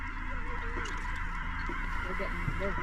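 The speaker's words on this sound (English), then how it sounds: "Oh, look at all the geese over there." A flock of geese honks repeatedly at sunset, a busy overlapping chorus of calls over a steady background hum, with a voice faintly present.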